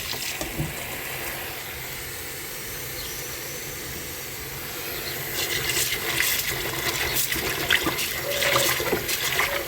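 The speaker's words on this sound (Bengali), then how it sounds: "তো এটাকে এভাবে আমি ধুয়ে নিব।" Running water rinses mung bean sprouts, a steady hiss and splash that grows louder and more agitated partway through, with no talk.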